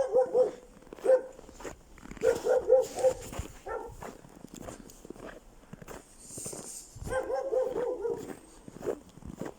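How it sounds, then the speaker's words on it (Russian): Dogs barking outdoors near a fenced residential lot in Yakutsk, Siberia, several bursts of barking at moderate distance with pauses between, mixed with footsteps on the ground. "Ага, собаки."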